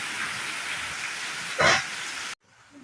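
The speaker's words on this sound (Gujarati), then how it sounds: "જુઓ એકદમ વરસાદ પડી રહ્યો છે જોરદારનો વરસાદ" Steady heavy unseasonal rain with wind hisses without a break onto a flooding street in Junagadh, with a brief louder splash or gust partway through before the sound cuts off abruptly.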